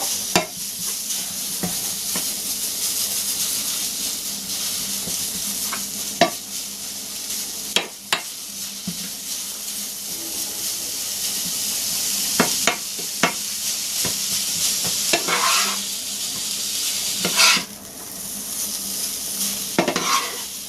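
Beef mince fries in a hot pan for cottage pie, a steady loud sizzle and hiss running throughout, broken by scraping stirs and occasional clinks of a utensil against the pan.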